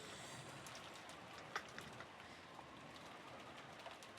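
Steady rain ambience from the Umineko video game, a soft continuous patter with a few faint isolated drops standing out, quiet and unbroken with no voices.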